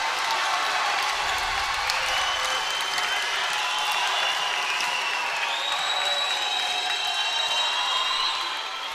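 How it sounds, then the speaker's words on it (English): Crowd cheering and applauding at a men's college volleyball championship final between Long Beach City and Orange Coast, a steady, dense roar filling the gym throughout without letup. "Crowd getting into it."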